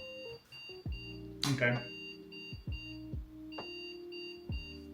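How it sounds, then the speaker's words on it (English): Repeated electronic beeps in a steady pattern from a 2010 PC motherboard signalling a video card error, with a short spoken word over them and a brief burst of other noise partway through. "So yeah, getting lots of beeps. I think that is a video card error."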